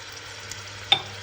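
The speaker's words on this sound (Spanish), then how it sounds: "Ya tengo el aceite bien caliente y entonces vamos a echar las verduras." Onion, garlic, peppers and carrot fry in very hot oil for homemade tomato sauce, a soft steady sizzle with one brief clack of stirring, close and with no voice.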